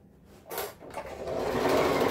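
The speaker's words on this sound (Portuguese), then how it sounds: "Costurar dos 2 lados aqui, ó." A sewing machine stitching along a milk carton lunch box, starting with a short burst and then running into a steady continuous whir, close and fairly loud.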